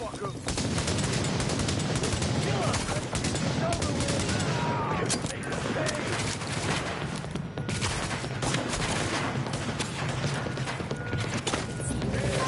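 Dense, continuous gunfire from The Division, with rapid overlapping shots and mechanical clatter filling the whole stretch at close, loud range.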